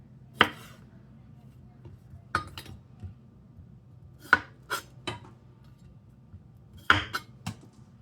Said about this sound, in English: it's easier to cut this into chunks here